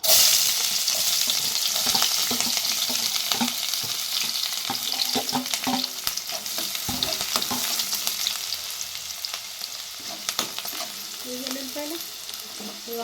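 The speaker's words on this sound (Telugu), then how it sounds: "మళ్ళీ నూనె వేసి ఇగోండి ఉల్లిపాయలు పచ్చిమిరపకాయలు మళ్ళీ వేస్తాను" Onions and green chillies fry in hot oil for chicken fried rice, a steady close sizzle with scattered crackles and spatula scrapes throughout, no talking.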